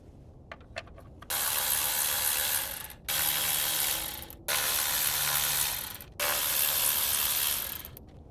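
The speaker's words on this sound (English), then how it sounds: "So we can go ahead and start to remove those 4 10mm bolts." Ratchet wrench loosening 10mm bolts on the ignition coils of a 2011-2016 Hyundai Elantra, three long bursts of rapid, close clicking separated by brief pauses, preceded by a few light taps.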